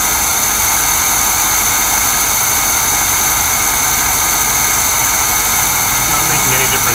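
K5 engine running after a throttle valve adjustment, a loud, steady, dense drone with constant mechanical roar and no change in pace, recorded close by, with a voice talking faintly underneath.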